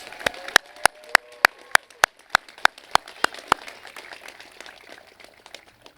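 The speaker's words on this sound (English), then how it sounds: "Let's give our top scholars one more round of applause." At a high school graduation, applause for top scholars is dominated by one nearby clapper striking sharp, evenly spaced claps, about a dozen of them. Fainter scattered clapping from the audience continues underneath and trails off.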